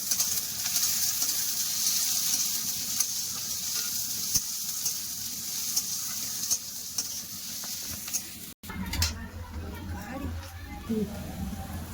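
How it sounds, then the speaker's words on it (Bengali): Chopped onion fries in oil with a bay leaf and a dried chili. A continuous sizzle hisses with stirring scrapes, then a fresh burst of frying follows as the onion goes in, and a voice talks over it. "দিয়ে দিচ্ছি কেটে রাখা পেঁয়াজ পেঁয়াজটা ভালো করে ভেজে নেবো"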